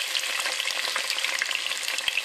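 Red peppers with bay leaves frying in a pan for a sofrito, a dense close sizzle with crackling pops and light stirring, steady and unbroken.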